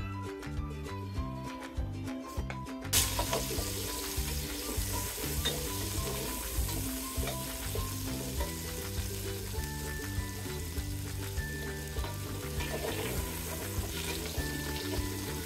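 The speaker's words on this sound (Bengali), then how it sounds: "আলুগুলোকে আমি 3 মিনিটের মতো ভেজে নেব।" Potatoes frying in oil in a pot at the start of a Bengali beef curry, a loud steady sizzle with occasional stirring scrapes, close up and uninterrupted, no voices.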